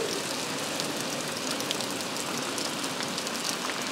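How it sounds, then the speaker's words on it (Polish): Heavy rain pouring steadily outside a window during a stretch of hailstorm weather, a dense continuous hiss with scattered drop patters, no voices. "Za oknem znowu niezły deszcz."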